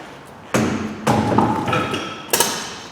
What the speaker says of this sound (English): get yourself a big rubber hammer,